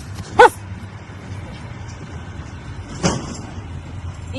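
A dog barks once sharply nearby, then gives a fainter second bark a few seconds later, over low traffic rumble.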